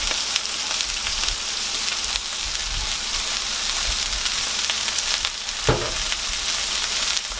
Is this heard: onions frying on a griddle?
yes